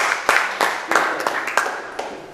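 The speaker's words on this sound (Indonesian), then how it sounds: "Kalau tepuk tangan jangan ragu-ragu ya" Scattered applause from an audience at a disability day thanksgiving gathering in a mosque hall, with uneven claps in loose bursts, moderately close, mixed with some crowd noise.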